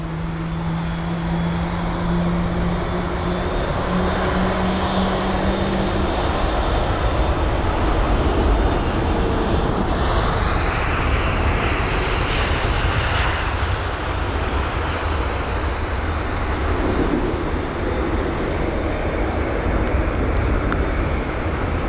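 An airliner arriving from Prague at Heathrow passes with a steady, loud engine drone. A whining tone rises partway through, and there is constant wind-like broadband rush with no voices.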